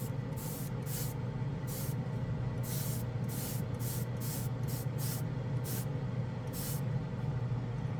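Short hissing bursts of an airbrush spraying Vallejo Metal Color acrylic metal paint, repeated in an irregular rhythm over a steady low hum, close by with no voices.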